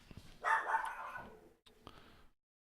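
A dog gives a short bark followed by a couple of quieter yips, brief and fairly close, within under three seconds.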